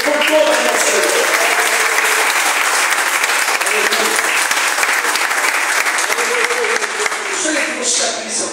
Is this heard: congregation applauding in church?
yes